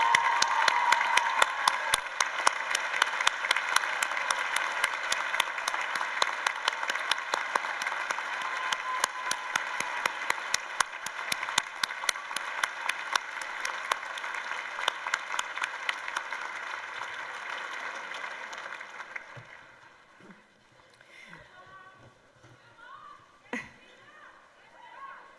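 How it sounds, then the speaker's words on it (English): Commencement audience applauding as graduates' families stand: dense, sustained clapping from a large crowd for most of the stretch, then fading into scattered claps and quiet murmurs near the end. "please stand so we can applaud your graduation"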